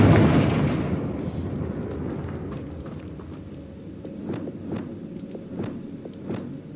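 A Confringo spell fired in the video game Hogwarts Legacy, set in a cave, opens with a loud blast that decays into rumble, then a string of sharp crackling pops and impacts.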